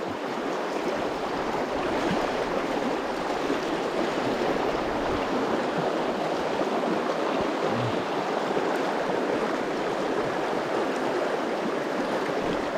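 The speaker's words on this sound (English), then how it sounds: "there's some rolling water here" Shallow stream with rolling water, a steady broadband rush and babble of flowing water, close and continuous with no voices.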